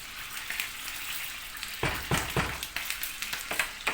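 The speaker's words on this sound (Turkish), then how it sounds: "Şöyle bir yemek kaşığından nane yağın içerisine aldık. Bunu güzelce yakalım." Mint sizzling and frying in hot oil for a village-style yogurt soup with cracked wheat, a soft steady crackle broken by sharp stirring scrapes and spatters in the second half.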